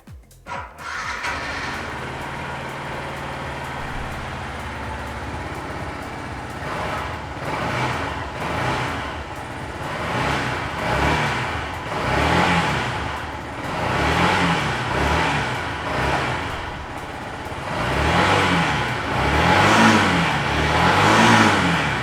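A Yamaha MT-125 motorcycle cranks and starts nearby, then idles and is blipped repeatedly, its single-cylinder engine note rising and falling in short revs.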